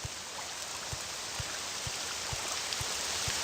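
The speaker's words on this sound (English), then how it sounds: "But it's raining." Steady rain hiss in Elder Scrolls III: Morrowind, a broad constant wash of falling water with faint, evenly spaced low thumps beneath it and no talking.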